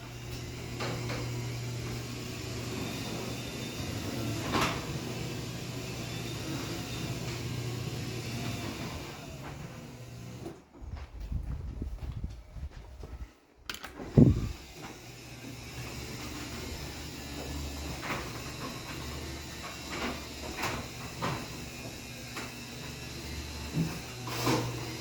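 Sliding door on a grandparents' house rolling along its rail, a long low rumbling glide with faint squeaks and a brief clunk near the middle, steady and fairly close.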